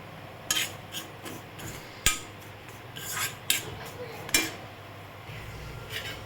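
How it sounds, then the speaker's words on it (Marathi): Semolina roasting in ghee for sheera, stirred with a metal spoon that scrapes and clinks against the pan in irregular strokes, a soft low sizzle running underneath. "हे बघू शकता मी मस्त भाजत आहे रव्याला"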